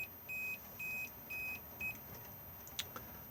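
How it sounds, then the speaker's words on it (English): The control panel of a fridge in an IH 600 RL vehicle, with the engine running, gives four short, evenly spaced electronic beeps, the last one briefer, followed by a couple of faint clicks against a low engine rumble. "if I now press this, it will beep at us"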